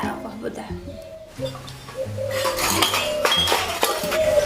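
Dishes are being washed, with pots, plates and cutlery clinking and clattering close by while people talk throughout.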